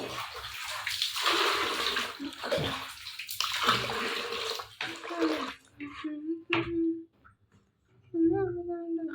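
Water splashes and runs as clothes are soaked and washed by hand in a home, loud close sloshing in the first half, then scattered splashes and drips between pauses, with someone talking throughout.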